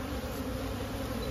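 A dense, steady drone of many honey bees buzzing together at a hive, continuous and fairly close, with no voices.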